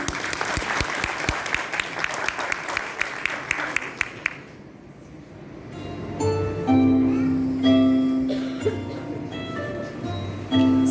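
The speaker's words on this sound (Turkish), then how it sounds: "Evet tekrar alkışlarınız." Audience applause at a poetry recital competition, dense clapping for about four seconds that then stops, followed by quiet music-like tones.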